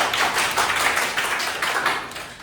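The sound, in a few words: students clapping in classroom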